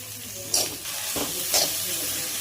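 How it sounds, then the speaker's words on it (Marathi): Sliced okra stirred in a pan of green chili paste, giving a soft steady sizzle with a few brief scraping stirs from a spoon, close and moderately loud. "भेंडी टाकायची त्या हिरव्या मिरच्याच्या पेस्टमध्ये. भेंडी व्यवस्थित हलवून घ्यायची."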